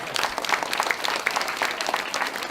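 A cabaret audience applauds, a steady wash of clapping at moderate volume, somewhat distant and sustained.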